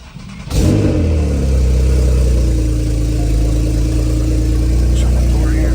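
A Porsche 991.2 Turbo S cranks and fires on a cold start, flaring loudly, then settling into a steady, high fast idle that holds close and strong throughout.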